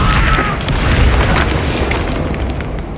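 A loud, deep boom from a Confringo explosion spell in the video game Hogwarts Legacy bursts close up and rumbles away over three seconds with no talk over it.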